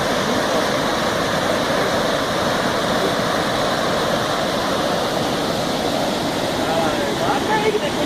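Formiga waterfall in Jalapão pours steadily into a pool with foamy blue water, a continuous broadband rush of falling water that stays loud and close throughout with no pauses.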